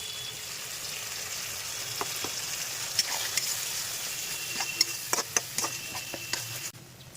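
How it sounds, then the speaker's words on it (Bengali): Spice paste with turmeric, salt and softened tomato sautéed in a pan for a prawn curry, a soft continuous sizzle with a few spatula taps and scrapes near the end. "এইবারে পেস্টটাকে দিয়ে ভালো করে কষিয়ে নেব"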